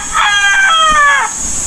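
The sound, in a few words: chickens, rooster crowing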